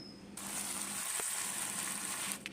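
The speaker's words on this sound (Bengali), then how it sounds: "প্রথমে টমেটো আমি কিছুক্ষণ ভেজে নেব" Chopped tomatoes dropped into hot spiced oil with five-spice for a tomato pickle burst into a loud, steady sizzle that starts suddenly and holds evenly, close to the pan, with no one talking.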